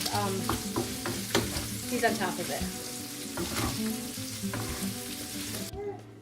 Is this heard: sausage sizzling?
yes